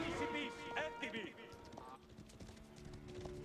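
Cavalry hooves clip-clop steadily from knights in the Age of Empires IV strategy game, a quick rhythmic patter of horses beneath continuous excited tournament commentary.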